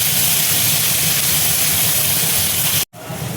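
Onions sizzling in hot oil with black cumin seeds for a Bengali rohu fish curry, a steady loud hiss running continuously before a sudden brief break near the end.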